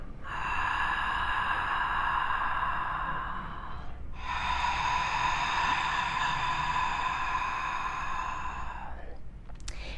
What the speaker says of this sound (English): you can do it with the mouth open, kind of sounding like Darth Vader